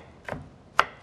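Two sharp knife chops through cabbage on a board, spaced about half a second apart, close and crisp with quiet between them.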